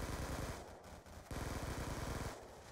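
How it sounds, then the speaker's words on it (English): Rapid automatic fire from a first-person shooter video game, loud continuous bursts with a short break in the middle. "What am I shooting at?"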